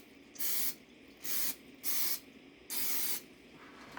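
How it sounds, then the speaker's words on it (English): Four short bursts of butter-flavored cooking spray hiss, each lasting under half a second, separated by brief pauses, close and fairly loud. "This is butter flavored spray."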